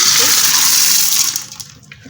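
Water is poured from a tap into a pressure cooker holding washed red beans, a steady loud gushing splash that fades out toward the end, with no talking.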